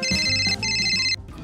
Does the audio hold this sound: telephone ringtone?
yes